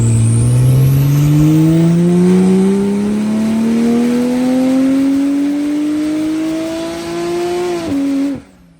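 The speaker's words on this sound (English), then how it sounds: "put it on the dyno first of all and see what it does with the same tune that he made the 773 on" A tuned Porsche 991 engine revs hard on a dyno, one long loud climbing wail rising steadily in pitch for about eight seconds before cutting off abruptly.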